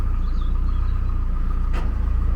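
A widebeam narrowboat's engine is eased up, a steady low rumbling drone close by with a brief brighter swish partway through.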